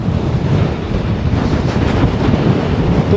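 Strong wind roars across a microphone riding on top of a moving iron ore train in Mauritania, a loud, steady, unbroken buffeting rush with no voices.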